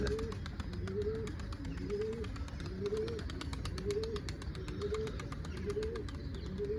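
Repeated pigeon cooing, soft throaty phrases recurring about once a second, close by over a steady low background hum.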